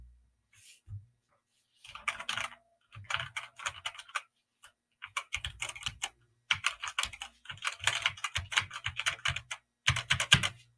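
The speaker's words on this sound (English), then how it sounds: "I'm not a huge fan of that springy twang sound, so I would pass on this keyboard because of the sound of the keys." Bursts of typing on a plastic-bodied gaming keyboard with a springy, twangy key sound, fast clattering runs of keystrokes separated by short pauses, close and clear, with no talk.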